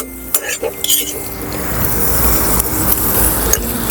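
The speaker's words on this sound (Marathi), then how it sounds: "कांदे हलकेसे लालसर तांबूस होईपर्यंत आपण परतून घेऊया" Onions being stirred and sautéed in hot oil in a pan for Yeola-style mutton curry, with a steady close sizzle broken by a few sharp clinks of a utensil against the metal pan early on.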